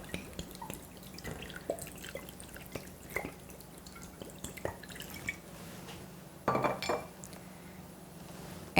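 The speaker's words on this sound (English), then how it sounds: "And then blanch with the water." Water is poured over chicken pieces in a pot for blanching, a faint trickle with scattered drips and light clinks of kitchenware, then a brief louder splash near the end, with no talking.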